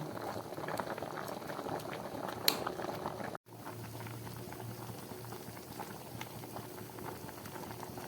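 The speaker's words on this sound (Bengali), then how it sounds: "আমার দুধ পুলিটা ফুটে উঠেছে পিঠেটা হয়ে গেছে সিদ্ধ" Dudh puli, rice-flour dumplings cooking in milk, bubble at a steady boil, with a dense, even stream of small pops and a brief break partway through.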